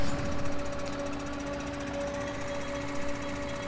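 Tractor mowing grass in Farming Simulator 2013, a steady droning engine hum with a constant tonal whine running evenly throughout, loud and continuous with no talk.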